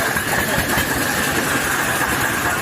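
A 2001-model tractor with five gears idles at the Moga tractor market in Punjab, its engine giving a steady, loud, continuous rumble with no change in pace.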